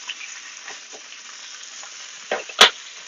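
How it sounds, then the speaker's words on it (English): Canadian bacon frying in a pan for eggs Benedict gives a soft, steady sizzle, with a couple of brief louder pops or scrapes near the end and no talking. "Getting Canadian bacon all nice and toasty."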